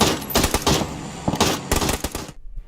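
Rapid automatic fire from an MK14 rifle in PUBG, loud and close, with dense bursts of shots in two main volleys before cutting off into silence.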